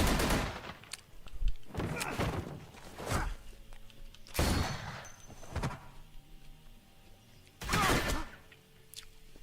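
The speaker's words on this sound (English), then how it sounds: "I hear gunfire." Several loud bursts of video game gunfire from The Walking Dead ring out at irregular intervals, with quieter rumbling between them.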